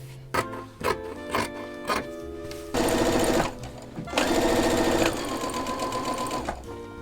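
Sewing machine top-stitching the folded edge of a quilted patchwork jacket sleeve made from fabric scraps, running in several short bursts and then longer steady runs, close and clear with no talking.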